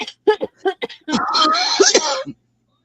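Short staccato vocal bursts followed by a longer, sharp nasal outburst, close and fairly loud, like a sneeze.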